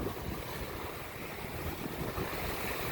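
Small rolling waves slapping against a boat on a lake in about 5 knots of wind, a steady close wash of water with broadband wind rumble over the microphone.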